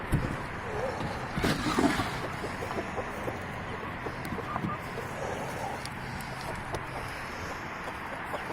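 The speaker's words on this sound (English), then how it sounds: "That's our main rooster. These are all silkies." Silkie chickens and a rooster cluck softly in a coop outdoors, with scattered low calls and faint background noise and no one speaking.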